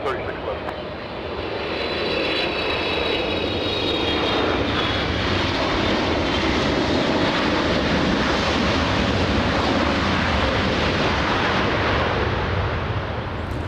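An airliner takes off from runway 24 Left at LAX, its engines a loud, steady, broadband roar with whining tones that builds in the first two seconds and then holds, close and continuous, with radio talk under it.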